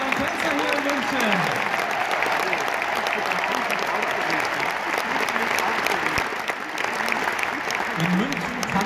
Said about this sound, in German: Und einen extra Applaus an die Tänzerinnen und Tänzer hier in München